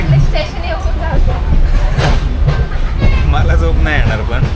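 An empty passenger train runs from Mumbai to the Konkan region, a loud, continuous rumble and rattle of the carriage heard from inside, with people talking over it.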